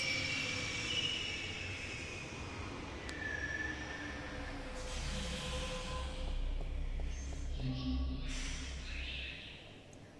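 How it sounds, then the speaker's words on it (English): Train arriving at a station in The Longest Journey adventure game: a steady low rumble of rolling carriages with brief high screeching tones from the wheels, continuous and fairly loud with no speech. "Alright, I guess we're waiting for the next train."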